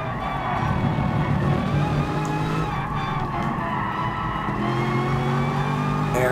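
Race car engine in the Gran Turismo Sport video game, revving hard on a straight during an FIA race; a loud, steady engine drone with rising pitch sweeps and tyre noise, no talk over it.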